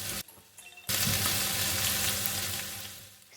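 Seafood drunken noodles stir-fried with oyster sauce, sugar and seasoning sizzle loudly in a hot pan after a brief quieter moment, a steady close frying hiss that fades slightly toward the end.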